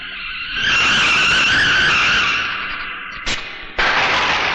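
A scooter skids to a stop in a film scene: a loud, sustained scraping hiss lasting a few seconds, then a short sharp burst and a renewed loud rush of noise.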